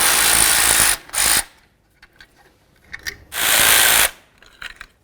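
A wrench loosening the mounting bolts on a front underbody shield of a 2006-10 Dodge Charger, two loud harsh bursts of rapid ratcheting a couple of seconds apart, with faint clicks and handling noises between them.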